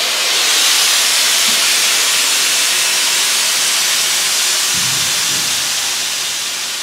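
Steady, loud air hiss from a scrap-built rollback lowering on shop air, a broad continuous rush lasting several seconds with a faint low knock partway through, slowly tapering at the end.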